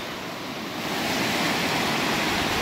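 Swollen water rushes steadily along a walking trail after heavy rain, a loud, continuous broadband roar of flowing current close by with no voices.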